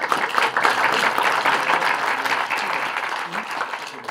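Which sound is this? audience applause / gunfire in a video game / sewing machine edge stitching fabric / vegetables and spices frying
audience applause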